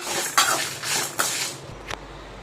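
Chana dal and spices dry-roasting in a pan for a spice powder for chow chow poriyal, with three distinct scraping, rattling strokes of a spatula against the pan over a low background.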